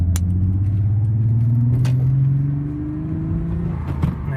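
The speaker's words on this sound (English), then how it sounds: "It's just struggling to take off." Car engine with misfires rumbling low and labored at low RPM as the clutch is let out, slowly rising in pitch as it strains under load, with a few small clicks and knocks close by.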